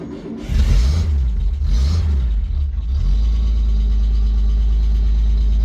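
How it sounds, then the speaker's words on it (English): An FJ Holden engine cranks over with a couple of rhythmic starter pulses, catches, and settles into a steady low, rumbling idle heard close up. "And there we go, that's how I start my FJ."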